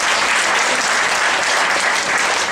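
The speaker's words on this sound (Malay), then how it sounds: "Tepukan untuk beliau" An audience applauding for a guest at an evening Malay-language motivational talk, dense continuous clapping filling the room at full strength throughout.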